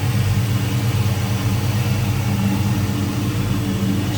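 A 1966 Dodge Charger's carbureted 5.7-liter Hemi V8 idles steadily up close, a smooth, even low rumble with no talking over it.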